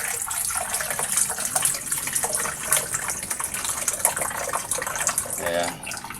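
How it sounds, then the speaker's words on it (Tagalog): Water rushes steadily out of an LG twin tub washing machine that has trouble draining, a continuous close gushing hiss lasting the whole stretch with a voice faintly present. "napakabagal po ng paglabas ng tubig niya"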